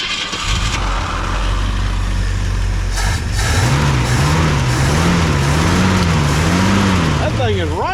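An abandoned 1964 Ford Fairlane Thunderbolt clone engine, sitting 29 years, turns over after carburetor work and fires, settling into a loud rough idle with rising and falling revs, close by, while people talk over it.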